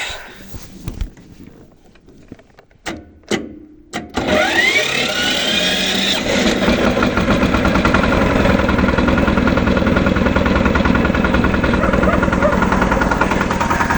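A car engine cranks and catches after a few brief bursts, then settles into a steady, loud, close idle that runs on without pause; faint handling noises come before the start.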